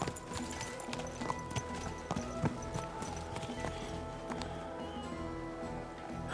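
Horse hooves clip-clopping at a steady walking rhythm in the video game Kingdom Come Deliverance 2, close and distinct over a soft ambient background.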